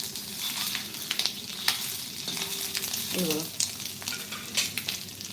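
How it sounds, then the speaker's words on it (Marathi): Boiled eggs sautéed in a pan for egg curry, with a continuous close sizzle and frying hiss and intermittent scraping and stirring clinks, no talking. "अंड आपल्याला जे बॉईल अंड करून घेतलेलं आहे ते चांगलं परतून घ्यायचं आहे"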